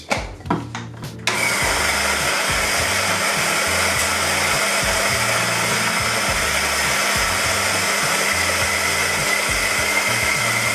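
An electric coffee grinder grinding house blend beans for espresso at a fine setting: a few clattering bean sounds, then a steady loud motor whir with a rhythmic low grinding pulse running to the end.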